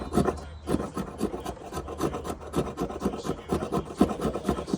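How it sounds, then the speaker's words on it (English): A Buck 863 Selkirk knife's spine ridges scrape fatwood into shavings: steady, close, rasping strokes in a quick repeating rhythm, loud and alone with no voices. "I'm going to use my little ridges on the spine here to get my fat wood shavings."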